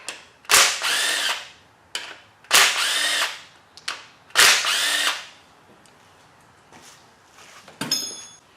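A power drill driving a Torx T30 bit on a Silverado Vortec 8100 8.1 engine whirs in three sharp close bursts of about a second each, with clicks and clanks between them in an otherwise quiet workspace.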